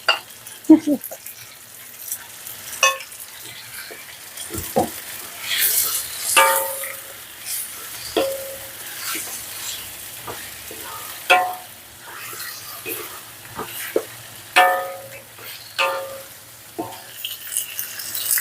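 Salted shrimp go into a hot pan and are stir-fried, with sizzling and sharp scraping strokes of a utensil against the pan arriving in irregular bursts, plus occasional clinks and a little background water; no voices.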